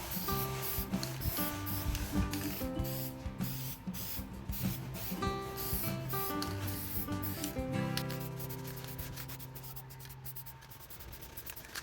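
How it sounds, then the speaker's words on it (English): Repeated short bursts of hissing Krylon metallic gold leaf spray paint on metal dresser hardware, close by, with tonal background music running underneath and no talking. "we're going to go ahead and spray it and get it ready"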